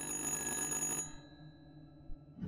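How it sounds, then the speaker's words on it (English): A telephone rings in the horror video game Little Hope, a loud electronic ring that stops abruptly partway through, leaving quiet room tone and a faint knock. "It's a phone!"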